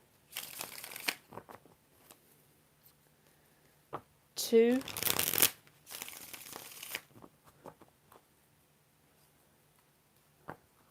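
Tarot cards shuffled in a few quick riffling, crinkly bursts amid quiet stretches, close and fairly soft, with a person talking briefly around them.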